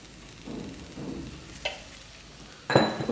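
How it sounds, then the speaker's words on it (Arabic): Onion frying in oil, with soft stirring scrapes and a light sizzle near the pan, then a sharper clatter of a utensil at the end, no voices. "ناخذ كميه ديال البصله، نزيدوا لها شويه ديال الزيت"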